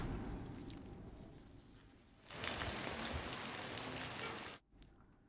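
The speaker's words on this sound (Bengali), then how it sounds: "উপকূলীয় জেলা বরগুনায় গত রাত থেকে টানা বৃষ্টি হচ্ছে।" Steady, continuous rain falls in the coastal district of Barguna, a dense hiss of drops that swells noticeably louder partway through and then cuts away sharply near the end.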